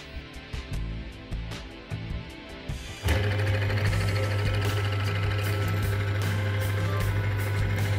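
A car engine treated with EZI engine treatment added to the motor oil, idling steadily with a constant low hum and mechanical clatter after a brief start, close and loud.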